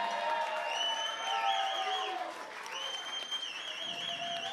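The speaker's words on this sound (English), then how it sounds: "can you guys give her a great big round of applause?" An audience at a Springfest 2018 concert applauds, with steady clapping and whooping cheers rising over it. The sound is fairly faint and distant.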